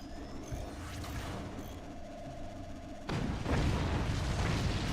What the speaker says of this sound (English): Cannons from above.